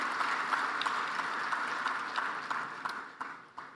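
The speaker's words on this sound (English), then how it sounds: "Can we give him a big round of applause?" Audience applause at an energy summit, a steady wash of clapping that fades toward the end, with a few individual claps standing out.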